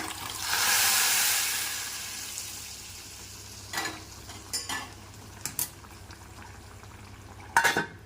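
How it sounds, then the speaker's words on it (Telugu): Eggs frying in a pan for an okra stew, a loud sizzle rising early then fading into a steady hiss, broken by several sharp clinks of a utensil against the pan. "సో గుడ్లు ఫ్రై చేస్తున్నాను"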